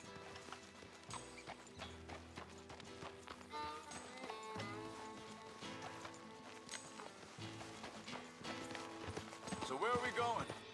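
Horse hooves clip-clop at a walk in the western video game Red Dead Redemption 2, fairly faint under music and ambient game sound, with tack rattling and a swell of noise near the end.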